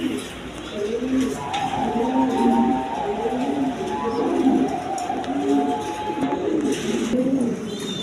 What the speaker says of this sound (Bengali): এক পেয়ার 8 এঞ্জেল কবুতর আছে দেখেন